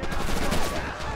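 Machine gun fire in the World War II shooter Red Orchestra 2, a dense rattling burst of rapid shots heard over a busy battlefield mix.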